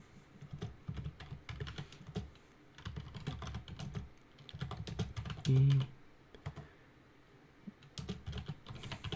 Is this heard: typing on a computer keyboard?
yes